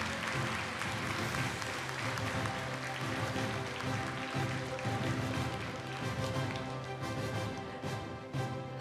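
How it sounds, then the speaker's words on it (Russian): Sustained audience applause for award recipients at a youth customs forum, continuous and even throughout, with music or a low hum underneath. "можно аплодисментами, конечно же, одарить наших награждаемых"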